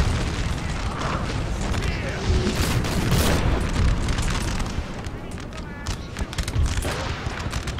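Artillery and musket fire in a Napoleonic-era 1815 campaign strategy game, continuous rumbling booms and crackling volleys, loud and dense, with someone talking over the battle.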